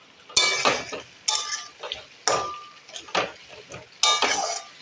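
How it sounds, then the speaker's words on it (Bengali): Potatoes are sautéed and stirred in a pan, with five distinct scraping strokes of a utensil against the metal at a steady rhythm and a faint sizzle between them. "আলুটা কষছি।"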